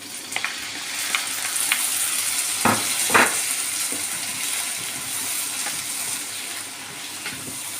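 Eggplant and tomatoes frying in a pan are stirred, giving a steady close sizzle with a few sharper scraping strokes of the spoon partway through.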